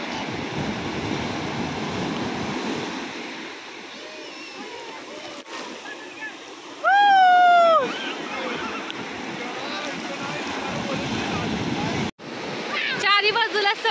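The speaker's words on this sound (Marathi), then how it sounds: "समुद्राच्या लाटामध्ये यांचा खेळ चालू आहे." Sea waves wash onto a clean beach in Kannur, Kerala, a steady broad surf roar with wind, lasting throughout, while voices are heard and a brief tonal call rises near the middle.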